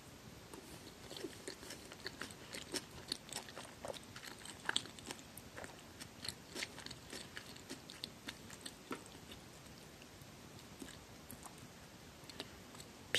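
Someone bites and chews pizza toast close to the mic, with soft crunchy bites and wet chewing in an irregular rhythm over a quiet background, and no talking.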